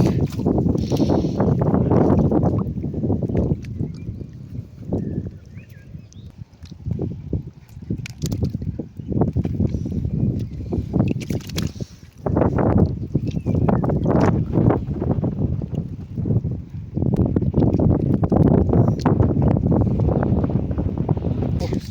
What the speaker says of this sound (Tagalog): Lumakas bigla ang hangin.